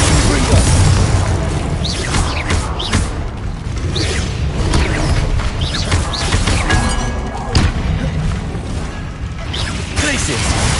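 A Confringo blasting spell in the Hogwarts Legacy video game erupts amid dense, continuous booms, whooshes and mechanical clatter, loud and layered throughout with no voice heard.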